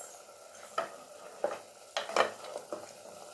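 A pot of idli kurma, a spiced South Indian curry side dish, boils quietly, with scattered soft bubbling pops and plops over a faint, low background.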